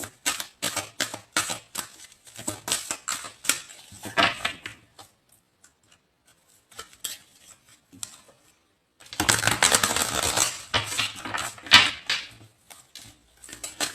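Tarot cards being shuffled by hand, close and crisp, with bursts of fluttering, clicking card noise, a quiet pause in the middle, then a longer, denser stretch of shuffling.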